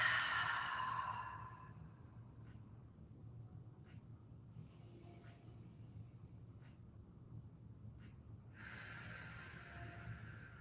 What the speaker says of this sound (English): Start with some nice big inhales through the nose.